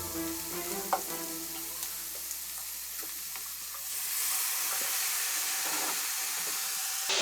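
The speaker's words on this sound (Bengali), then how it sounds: "লাউ শাক দিয়ে দিচ্ছি।" Bottle gourd greens fry with dried fish in a pan, giving a steady sizzle that swells louder partway through, with a few soft clinks and no talk.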